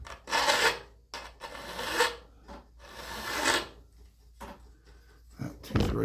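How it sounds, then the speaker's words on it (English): A file is drawn over a sawmill band saw tooth to take off a burr, giving several rasping strokes of uneven length separated by short pauses, heard up close. "So if I file this burr off,"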